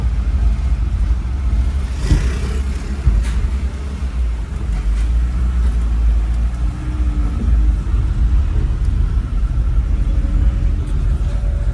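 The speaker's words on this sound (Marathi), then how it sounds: "तर आता मी चालवते टेम्पो." A tempo truck rumbles along while being driven, a steady loud low engine drone with road noise continuing throughout, with a few faint knocks and rattles over it.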